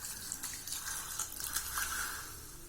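A tumbler of water poured into rice while cooking a kohlrabi rice dish gives a steady, close splashing rush for a few seconds, with no talking.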